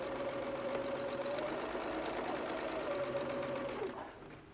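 A sewing machine runs steadily as it stitches around the outside edge of a curved fabric toy. The motor whine holds at a constant pitch, then slows and stops near the end.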